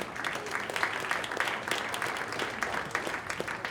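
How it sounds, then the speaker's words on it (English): A small audience at a tech startup gathering gives a round of applause, an even, moderately loud patter of many hands with no voices over it. "Round of applause, y'all"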